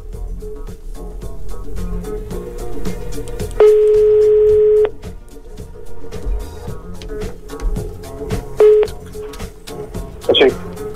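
A short series of electronic keypad tones from a telephone being dialed in a radio studio, including one long sustained beep, sounds over a busy background of music and chatter.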